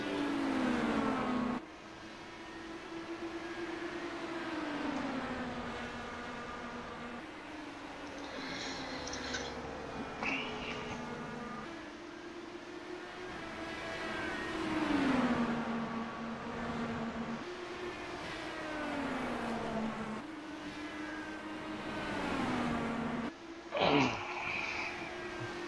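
Race car engines whine and drone around the Phoenix oval during the Top Fuel Phoenix 175, rising and falling in pitch as cars pass, with an occasional sharp close pass near the end.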